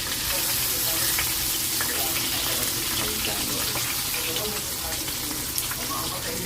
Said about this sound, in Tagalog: Isunod na natin pritong manok.